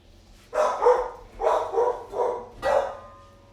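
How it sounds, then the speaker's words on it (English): Dogs in a backyard let out four loud, close barks in a row, with short gaps between them and no talking. "Dogs will continue to be awful for a bit"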